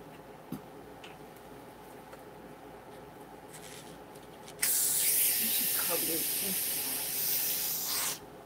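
Carbon dioxide at about 40 pounds of pressure hisses sharply into iced coffee in one loud, steady burst lasting several seconds, then cuts off, after a quiet stretch with faint clicks.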